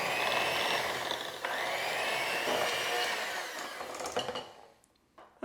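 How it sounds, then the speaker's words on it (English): Electric hand mixer creaming brown sugar for pumpkin chocolate chip cookies: a steady, close whirring motor drone with beaters churning, wavering slightly in pitch before cutting out near the end with a few clicks. "And then with my hand mixer, or you can use a stand mixer"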